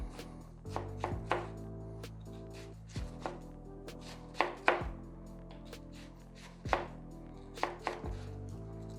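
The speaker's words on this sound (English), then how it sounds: "And we've got our onions cut right there." A knife chops onions on a cutting board in sharp, close, irregular thumps and taps, several in quick bursts with short pauses between, and no talking.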